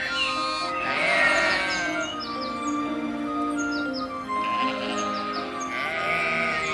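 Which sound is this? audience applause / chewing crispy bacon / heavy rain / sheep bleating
sheep bleating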